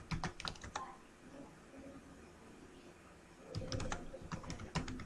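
Quiet clacking on a computer keyboard, with rapid bursts of keystrokes at the start and again near the end, separated by a pause with a faint hiss.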